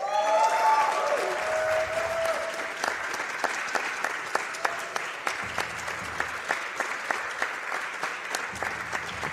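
A crowd at a charity speedrun event breaks into applause and cheering, loud at first with a whistle-like tone, then thinning into scattered individual claps that pop out sharply over a quieter background.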